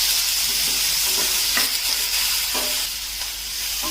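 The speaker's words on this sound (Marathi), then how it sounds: "आलं घालायचं काश्मीरी मिरच्या हे पाच मिनटं परतून घ्यायचं" Ginger and Kashmiri chillies sizzling and frying steadily in a pan, with a few soft stirring scrapes, close and continuous without talk.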